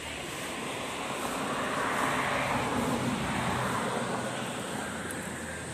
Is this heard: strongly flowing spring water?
yes